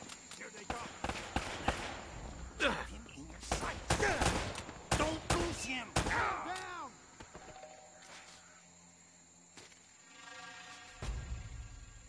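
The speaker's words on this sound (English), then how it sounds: "They're shooting at you, too" Enemy gunfire in Uncharted, a burst of rapid sharp shots clustered in the first half, then sparser cracks and a quieter stretch, with characters talking over the game sound.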